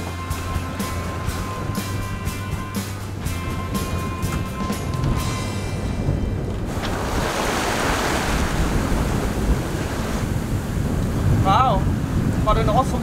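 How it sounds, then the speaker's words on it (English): Rough ocean waves wash steadily around a sailboat under sail between Caribbean islands, with strong wind buffeting the microphone throughout and a continuous loud surf-like rush. "It's got a bit rough and the waves have increased a little bit"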